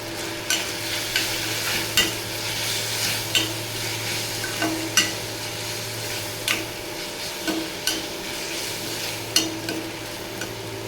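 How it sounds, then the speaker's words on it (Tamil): Crab gravy masala sautéing in a pan gives a steady sizzle, with a spoon scraping and tapping the pan at irregular intervals, close and alone. "நல்லா இதை வதக்கலாம்."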